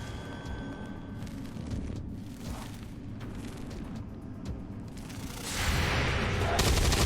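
Heavy weapon fire in the tactical game XCOM 2, including a massive cannon, with dense, continuous booming bursts that swell louder toward the end.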